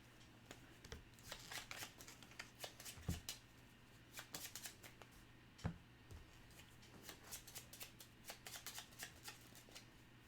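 Playing cards are shuffled repeatedly in quick riffling bursts, crisp and close, with brief pauses and soft handling clicks between them.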